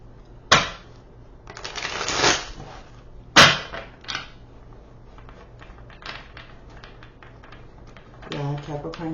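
Tarot cards shuffled by hand, with two sharp snapping riffles followed by softer sliding and tapping of the deck, close and fairly loud; a voice speaks briefly near the end.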